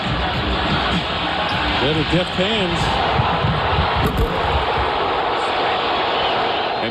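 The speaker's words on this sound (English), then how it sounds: "listen to the crowd, how they react to him" Basketball arena crowd at the Georgia Dome during a Knicks playoff game against the Atlanta Hawks, a continuous roaring murmur filling the space beneath courtside commentary, with sneaker squeaks and a few sharp thuds.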